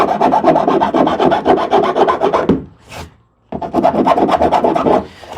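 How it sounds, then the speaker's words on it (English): Hand file rasping burrs off the outer edge of a hole cut in a Pelican Catch 100 kayak's plastic hull, heard as steady, close, rhythmic strokes in two bursts separated by a brief pause. "Now I'm just gonna take a file and just clean up the outside edge of this hole."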